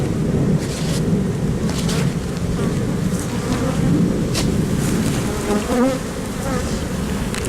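Honey bees buzzing loudly and continuously around a queen bee cage, a dense close drone with small swells in pitch and no voices.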